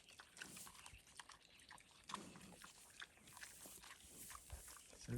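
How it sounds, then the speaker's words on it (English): Red Wattle and Tamworth cross pigs, about 25 weeks old, chew feed noisily at close range, with steady crunching and wet munching broken by sharper bites and snuffles. "So they're eating at a full mouth now."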